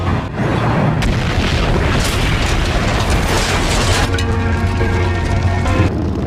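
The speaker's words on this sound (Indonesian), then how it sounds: "Suara ledakan kuat yang dihasilkan" A loud, deep explosion in a film booms and roars for several seconds, followed by rumbling debris and a lingering mechanical drone.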